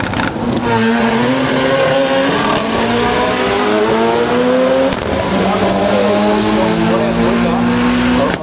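A purple Mazda RX-7 makes a drag racing run, its engine loud and close, climbing through rising revs with gear changes and tire noise, while a commentator talks over it.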